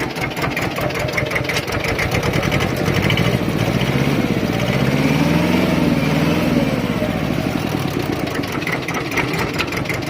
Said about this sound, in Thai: เดี๋ยวเร่งเครื่องให้ดู ให้ฟังอีกนะครับ